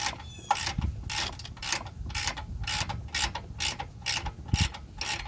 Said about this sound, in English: Now the 12mm socket. Just gonna tighten it up.